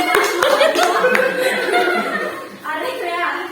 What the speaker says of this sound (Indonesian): Dan diberi aplaus untuk Re dan